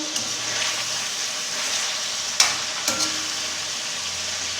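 Chicken frying in a karahi, Peshawari street-style, with a steady close sizzle under two sharp scraping clanks of the spoon stirring the pieces, no voices.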